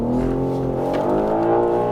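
A car engine drones steadily at high revs through a drift, its harmonic whine holding loud and close for under two seconds with no voices.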